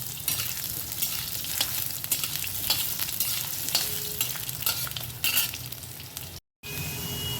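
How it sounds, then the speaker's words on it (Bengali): Long strips of cut potato fry steadily in hot oil, a dense close sizzle with occasional stirring clatter, running continuously with a brief dropout near the end. "আমি আলুটাকে লম্বা লম্বা করে কেটে রেখেছি তোমরা চাইলে তোমাদের মনের মতন যেরকম খুশি কেটে নিতে পারো আলুটা দিয়ে আমি কিছুক্ষণ সময় থেকে ভেজে নেবো"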